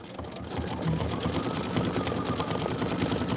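Embroidery machine running a decorative stitch-out, a fast steady mechanical whirring and chattering hum that rises after a brief start and continues evenly at close range with no talking.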